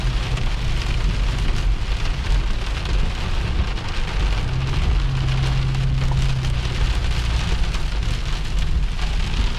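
Steady, heavy rain pours down outdoors, a loud, dense hiss of drops hitting surfaces that continues without pause, with a low rumble underneath and no voices.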